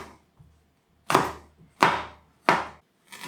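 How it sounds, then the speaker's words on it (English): Three sharp knife chops on a cutting board as fresh coriander is chopped, with a fourth starting at the end, close and fairly loud, evenly spaced with short quiet gaps between strokes. "And chop the coriander"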